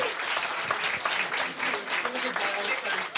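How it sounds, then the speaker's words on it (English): A convention crowd at Scotiacon 2025 gives a lively round of applause, with dense clapping throughout and scattered voices and cheers mixed over it. "Round of applause for our gods"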